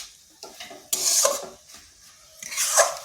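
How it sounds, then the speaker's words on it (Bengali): A spatula scrapes and stirs a spiced cabbage mixture with sugar and garam masala in a pan, two loud rasping strokes separated by quieter pauses, close by. "এরপর সবগুলো ভালোভাবে মিশিয়ে নিচ্ছি।"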